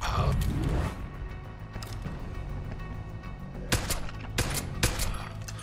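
Gunfire in the video game Deus Ex: Human Revolution: several sharp, loud shots crack in a cluster toward the end, after a stretch of rumbling background noise and mechanical clatter.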